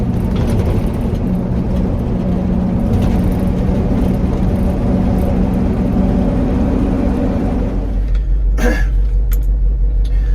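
A 1979 Ford L-600 truck drives with a steady loud engine drone and road rumble heard from inside the cab, then the engine note drops as it shifts into high range, followed by a few mechanical clunks.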